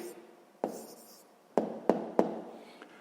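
Pen on paper while writing a sixth-grade math answer: a few sharp taps and short strokes with quiet scratching between them, close and faint, with no talk.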